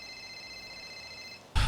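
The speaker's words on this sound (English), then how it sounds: "this phone doesn't stop" A telephone rings with a steady, high electronic tone held for over a second, then a sudden loud burst of noise cuts in at the end.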